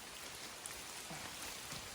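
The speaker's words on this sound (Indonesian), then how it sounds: "Cuaca masih tetap hujan." Rain falls steadily in a mountain forest on Gunung Kawi, a dense, even hiss of drops on foliage at low volume with no voices, unchanging across the short stretch.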